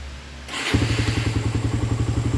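A motorcycle engine with an air-screw fault revs abruptly, then sputters and chugs in a steady uneven pulse once the throttle is snapped open, close and loud after a brief quieter idle.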